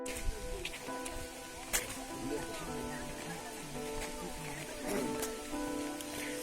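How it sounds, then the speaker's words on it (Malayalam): Light rain falls outdoors near a waterfall, a steady soft hiss of drops across the whole stretch with a few sharper taps, under faint voices. "ചെറുതായിട്ട് മഴ പെയ്യുന്നുണ്ട്."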